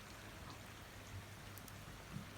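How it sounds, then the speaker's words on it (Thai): Steady soft rain falling over a Japanese vegetable garden in open farm fields, a faint even patter with a few closer drips and no talking. "แต่ฝนก็ตก"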